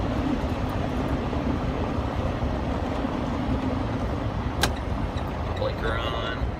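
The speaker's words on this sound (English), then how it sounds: "Put the window down, see if you guys can hear the engine" Steady low truck engine rumble with road and wind noise while driving, heard through an open window, continuous and fairly loud, with a brief click partway through.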